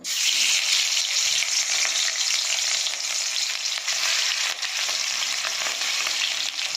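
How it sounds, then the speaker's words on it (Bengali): Rohu fish, rubbed with salt and turmeric, sizzles and crackles steadily in hot oil in a pan, a dense, close, continuous frying hiss with no voices. "এই যে তেল দিয়ে দিয়েছি মাছে, মাছ ভাজবো"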